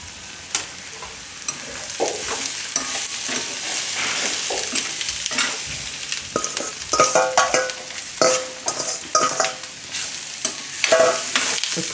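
Aloo thecha masala stirred and fried in a pan, a steady loud sizzle broken by repeated scraping strokes of a spoon against the metal, close up with no voices.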